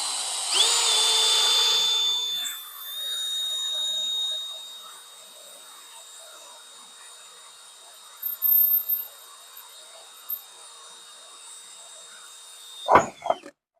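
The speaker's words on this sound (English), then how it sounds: "We're just going to set this drill bit in there nice and easy" A drill bit boring a hole in raw steel for a custom Harley air cleaner, a steady whining grind for about four seconds, then a quieter stretch with a few scattered clanks and a sharp knock near the end.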